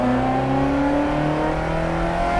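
A 1995 Ferrari F355 race car's engine revs hard under acceleration on a track. It is a loud, continuous, high-pitched wail whose pitch climbs steadily, heard from close by with no talking.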